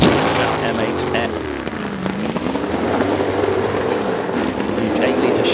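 An 8-litre Chevrolet-powered McLaren M8F Can-Am race car thunders past at Goodwood with a loud, continuous engine roar whose pitch rises and falls, under excited commentary.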